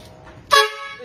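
A newly installed vehicle horn sounds once in a short, loud blast of about half a second, with a sharp onset and quickly fading tone, close by and alone.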